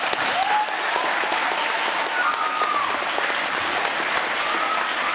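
An audience at a children's concert applauds, a loud, sustained wash of clapping hands that continues steadily without a break.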